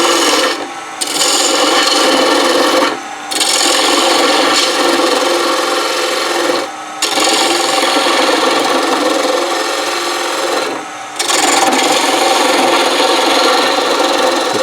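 A lathe gouge rides the bevel on an offset wood turning, producing a loud, continuous rough scraping and rasping of the cutting tool against the wood, broken by four short pauses.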